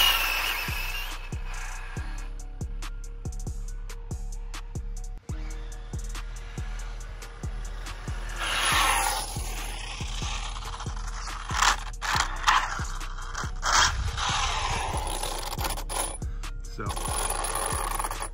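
An Arrma Limitless V2 RC drag car on GRP tires runs at half power, giving a steady mechanical whir with rapid ratcheting clicks early on, then a rougher, louder surge of motor and drivetrain noise.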